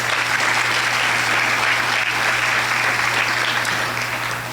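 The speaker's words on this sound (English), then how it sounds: "So let's give them all a round of applause." An audience applauds at a school grand opening ceremony, a dense, steady clapping from a large crowd that fills the room and holds evenly for several seconds before tapering slightly.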